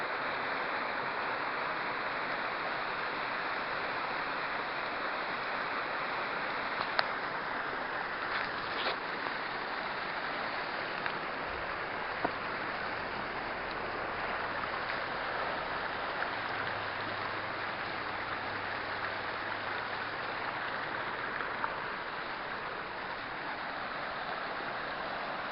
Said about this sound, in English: We're on this little waterfall at Glen Shee.